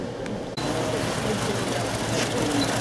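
A GM engine with variable valve timing runs rough, misfiring on all cylinders and barely staying alive. It gives a steady, loud, close-up churning idle with no clear talk over it.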